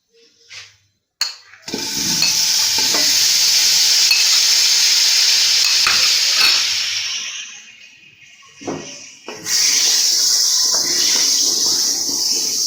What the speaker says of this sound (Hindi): मक्खन को हम अच्छे से मेल्ट कर लेंगे।